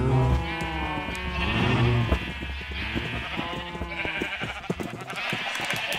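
Sheep in a city-building video game bleat repeatedly in overlapping, wavering calls, fairly loud and continuous, with game clicks and faint background music underneath.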